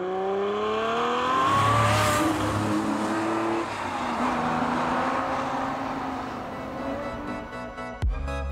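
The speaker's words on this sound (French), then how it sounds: "Cette 812, elle a une sonorité." A Ferrari 812 on a rally drive, its engine loud and close as it revs and pulls through rising and falling gears in a smooth, continuous howl, alone with no talking, ending in a brief clatter.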